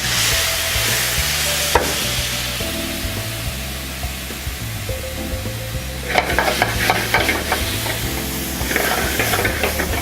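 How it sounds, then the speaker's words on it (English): Browning garlic sizzling in a pan for carbonara, then deglazed with half a cup of white wine, a loud steady hiss that bursts into brighter crackling, spitting sizzle partway through, with background music underneath. "deglaze it with half a cup of white wine"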